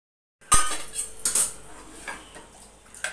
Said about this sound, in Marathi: इकडं चालू आहे भेंडी चिरायचं काम